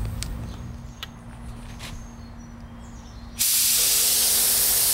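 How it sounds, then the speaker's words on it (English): A paint sprayer hooked to an air compressor is tested: low machine hum with a steady tone, then a sudden loud, continuous hiss of air blasting from the spray gun. "Now we're ready to attach it to our air compressor and test it out."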